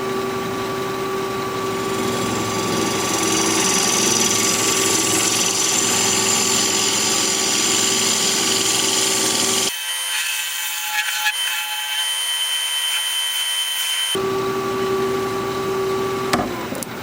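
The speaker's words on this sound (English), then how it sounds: "And I'm going to use my recess tool to put a dovetail on the side here." A wood lathe spins a piece of wood being turned, giving a steady loud motor hum with a tonal whine. The low rumble drops out briefly midway, then the full hum resumes.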